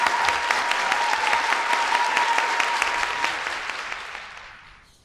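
A seated audience at a City Gallery talk applauds warmly to welcome a special guest, with dense, steady clapping from a full room that holds strong and then fades away to silence near the end.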